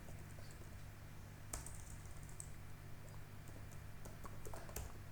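Soft keystrokes on a computer keyboard tap out a few irregular clicks against a steady low hum, faint and close.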